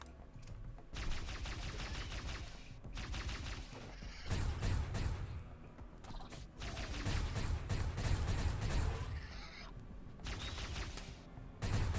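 Gunfire in a Rimworld Warhammer 40k battle, with repeated rapid bursts of shots in clusters separated by brief lulls, fairly faint overall with some mechanical clatter.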